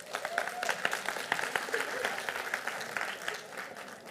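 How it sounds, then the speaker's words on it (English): Audience applause at a business seminar on dance studio profits, a steady mid-level patter of many hands clapping for about four seconds without speech. "Round of applause, please."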